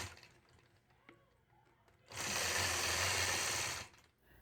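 A sewing machine runs steadily for about two seconds while machine quilting curved point-to-point stitches along a mini 4-in-1 quilting ruler, a loud close whir that starts and stops cleanly after quieter handling sounds.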